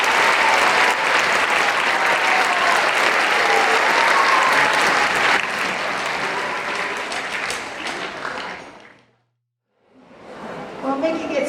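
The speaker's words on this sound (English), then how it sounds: "Everybody give the orchestra another round of applause." Dense, loud audience applause for a middle school orchestra at a school band concert, holding steady for about nine seconds before cutting to a brief silence, then picking up again with some voices.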